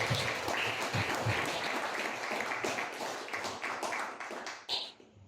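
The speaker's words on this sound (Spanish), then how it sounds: "Fuertes palmas para él." An audience at a book presentation claps in dense, steady applause that goes on for about five seconds, then thins and ends with a few last claps.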